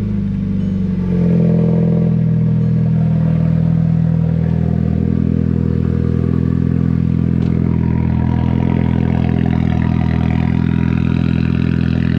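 A Volkswagen GTI with a Tomei titanium exhaust idles steadily after a cold start, a loud, close, continuous low engine drone with a slight rise in pitch early on.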